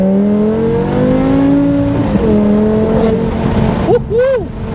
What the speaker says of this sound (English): you're definitely going to want to hear some of that exhaust